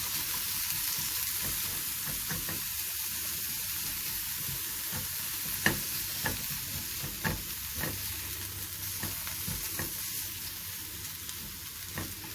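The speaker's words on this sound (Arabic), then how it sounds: "عندي طاسة بسخنها كويس جدا وبنزل بالقوانص" Chicken gizzards sizzle steadily in a well-heated pan. Occasional sharp pops and spatters rise above the constant hiss, with no voices.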